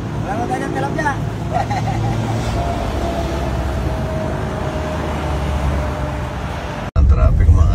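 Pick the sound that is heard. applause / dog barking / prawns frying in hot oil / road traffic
road traffic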